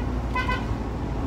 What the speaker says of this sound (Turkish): Kornam çalışıyor